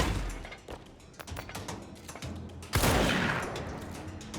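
Gunfire in the video game Control: a short burst of shots, then a louder, denser volley from about the middle onward, close and sharp over game background noise.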